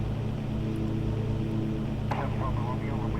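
A Cessna engine in the flight simulator X-Plane 7 drones steadily and evenly throughout, with a voice rising briefly over the hum near the end.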